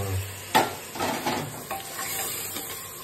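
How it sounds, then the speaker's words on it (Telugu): Washed mutton and fenugreek leaves go into a pot of hot oil, giving a sharp sizzling hit followed by a few rustling stirs and soft clatters from the pan. "ఇప్పుడు మనం కడిగి పెట్టిన మాంసము ఇంకా మెంతాకు అవి వచ్చేసి అవి వేసుకో"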